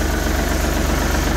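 A small tractor's engine idles steadily nearby in a low, even throb with a fast regular pulse, running alone with no voices.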